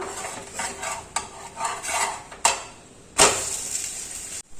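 Dosa turned over with a spatula on a pan: metallic scrapes and clinks, sharp taps, then a louder scraping flip followed by a faint sizzle, close up with no talking.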